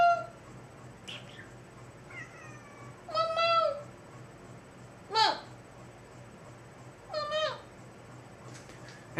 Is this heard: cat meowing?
yes